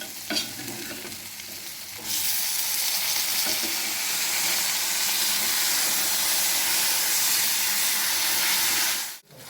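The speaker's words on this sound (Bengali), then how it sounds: "মশলাটা ভাজা হয়ে গেছে আমার, এখন আমি দিয়ে দেব সিদ্ধ করা ছোলাটাকে" Boiled chickpeas tipped into spices already fried in a pan for chana dal, setting off a loud, steady sizzle with stirring that starts after a brief quieter moment and runs continuously until it cuts off near the end.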